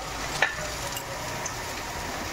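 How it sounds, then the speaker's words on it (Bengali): Eggplant slices frying in a pan with a steady, soft sizzle throughout and one brief clink of a utensil near the start, no voices. "বেগুন ভাজা হচ্ছে"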